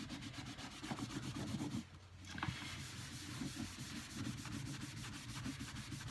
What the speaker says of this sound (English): So just a little bit of rubbing will take off the chalk from the previous application.